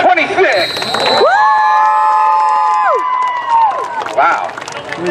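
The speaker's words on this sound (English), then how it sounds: "They're cheering for a pumpkin." Spectators at a demolition derby's Power Wheels event in Orillia cheer, whoop and shout loudly and nearly continuously, close by, with a long rising-and-falling whistle-like cry carrying through the middle.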